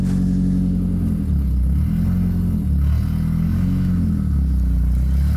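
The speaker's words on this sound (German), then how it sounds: "So, dann wollen wir mal mit unseren Spezialfahrzeugen ein bisschen fahren." A Babelsberg stunt crew's special vehicles drive around a small arena: loud, continuous engine rumble close by, with revs rising and falling in repeated surges.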